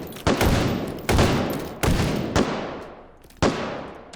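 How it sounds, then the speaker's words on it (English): Gunfire in the VR shooter H3VR: four separate loud, sharp blasts spaced about a second apart, each trailing off in a short echoing decay. "Oh, you're under fire, you idiot!"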